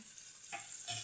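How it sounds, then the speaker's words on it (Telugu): Slit green chillies sizzle in hot oil with onions in a pan for a ridged gourd gravy, a soft steady frying hiss broken by a couple of brief stirring scrapes, close but fairly quiet. "తర్వాత మనం నిలువుగా చీరుకున్న పచ్చిమిర్చిని వేసుకోవాలి. మరొకసారి కలుపుకోవాలి."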